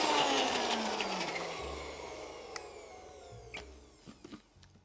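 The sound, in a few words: blender blending soaked dates and cashews into creamy frosting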